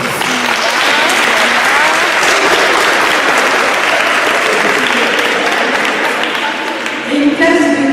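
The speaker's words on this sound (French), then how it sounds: "On peut les applaudir." A large audience at a school slam poetry event applauds a visiting middle-school class, loud continuous clapping throughout with some crowd murmur, fading slightly near the end.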